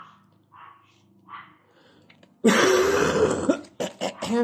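After a few quiet soft sounds, a loud, harsh coughing fit erupts up close, rough and throaty, breaking into several bursts.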